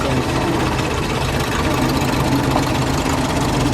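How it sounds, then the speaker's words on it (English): Tractors pass close by with a heavy, steady engine rumble and a slight knocking throb that holds at an even loudness. "We got tractors going by us."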